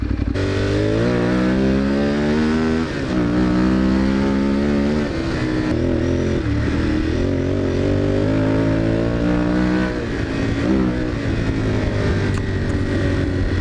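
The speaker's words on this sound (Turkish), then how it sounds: "Bunda gaz açmaya doyamıyor insan." Motorcycle engine revved hard with the throttle opened repeatedly, a loud, close, continuous roar rising and falling in pitch over several pulls, heard alone without talk.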